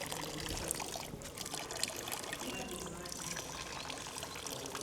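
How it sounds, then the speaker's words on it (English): Water pouring steadily from a public drinking fountain on a street in Venice, Italy, a continuous splashing trickle at moderate distance with faint background bustle and voices. "Running water all day, every day."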